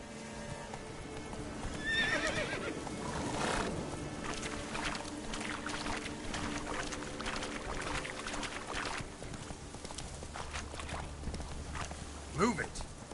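In The Witcher 3, a horse's hooves pound in a quick rhythmic gait with a short neigh near the start and a snort toward the end, while a voice speaks over the riding.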